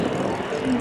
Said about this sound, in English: Notice there that the runway doors are open on the P8 as it flies past the helicopter.